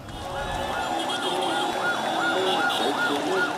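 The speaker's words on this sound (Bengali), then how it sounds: "এমন পরিস্থিতিতে সাইরেনের শব্দে ভারী হয়ে ওঠে ঢাকা মেডিকেল কলেজ হাসপাতাল এলাকা" Wailing emergency vehicle sirens near Dhaka Medical College Hospital, rising and falling in a steady repeating cycle, loud and continuous over a busy street crowd din.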